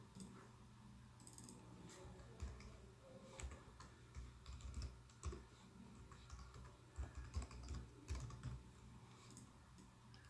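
Typing the words Merry Christmas on a computer keyboard, a close, quiet run of irregular key clicks and taps lasting several seconds, with no voices.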